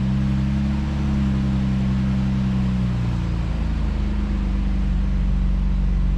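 A Ford Flex engine idling steadily after a mid pipe muffler replacement, a continuous low rumble with a slight pitch shift partway through, close and loud.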